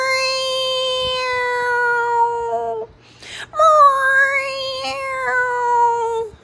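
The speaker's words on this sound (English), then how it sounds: "That kitty's making an awful lot of noise." A cat meows loudly and repeatedly in long, drawn-out wailing cries, close up, with a brief pause in the middle before the crying resumes and rises again.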